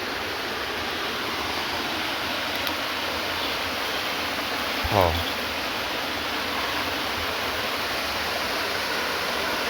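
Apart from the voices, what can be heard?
waterfall flowing in a steep ravine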